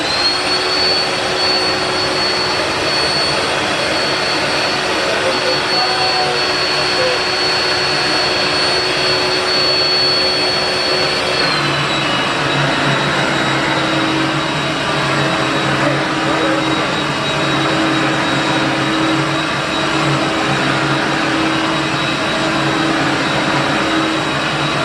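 A vacuum cleaner runs steadily on medium pile carpet, a loud continuous motor whine with no talk, its pitch shifting slightly partway through.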